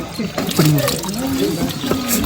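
Water runs steadily from a pipe on a mountain trail at night, a close splashing and trickling stream heard under people talking.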